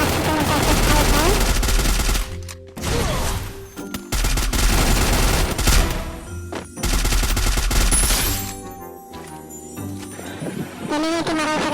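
Rapid bursts of gunfire ring out in a close firefight with an enemy in a mobile battle royale shooter, loud automatic volleys broken by brief pauses, with game music and effects underneath.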